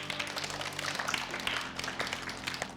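A studio audience applauds on a Russian talk show, dense continuous clapping that holds steady and fairly loud for a few seconds with no break.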